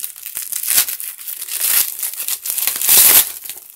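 Plastic packaging for a car-wash sprayer crinkles and tears in quick, close bursts of crumpling rustle, with brief pauses between handfuls and no talking.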